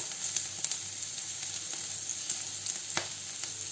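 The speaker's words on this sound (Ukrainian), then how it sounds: "Цибуля і морква трохи підсмажилися, відправляю сюди ще два шматочки масла, які в мене залишилися." Onion and carrot frying in butter in a pan give a steady, soft sizzle with faint crackles and a few louder pops, close by and without talk.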